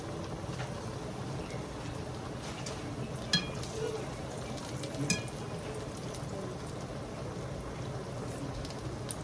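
Eggplant pieces French frying in a pan of hot oil, giving a steady, dense sizzle throughout with a couple of brief clinks as the pieces are stirred around.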